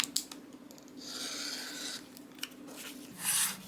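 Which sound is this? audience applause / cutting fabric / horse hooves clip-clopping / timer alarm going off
cutting fabric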